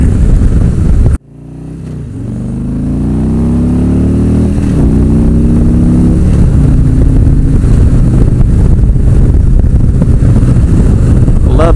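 A Harley-Davidson motorcycle roars up through the gears after a sudden start, loud and close, its rising engine tone stepping down at each shift before settling into a steady strong drone.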